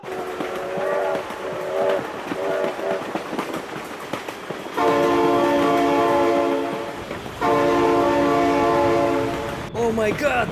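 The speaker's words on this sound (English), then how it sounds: "Oh my god, train!" A train in the BeamNG driving game blasts its horn in loud, sustained chords, two long blasts following shorter bursts over rumbling rail noise.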